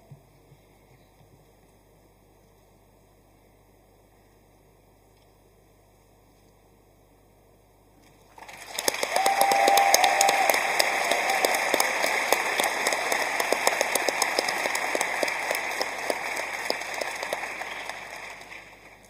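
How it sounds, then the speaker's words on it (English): Applause for award winners at a school achievement celebration: after a quiet hall, dense sustained clapping from a large audience breaks out and continues steadily, loud and filling the room. "May we have another round of applause?"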